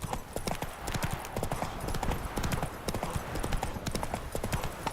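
Roach the horse gallops in the video game Witcher 3, a fast, steady clip-clop of hooves that runs continuously and evenly throughout, loud and close with no pause.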